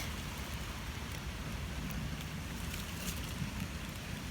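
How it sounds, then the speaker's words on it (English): Heavy rain falls steadily outdoors among rocks and logs, a dense, continuous hiss of drops with a low rumble underneath, loud and unbroken throughout with no voices. "It's raining really hard."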